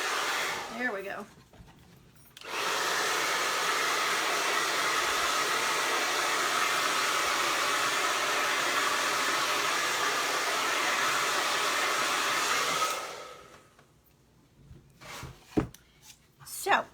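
A hair dryer blasts a steady, loud rush of air to dry paint on a pumpkin, switching on after a short pause and then cutting off about ten seconds later, with a few brief knocks and handling sounds before and after.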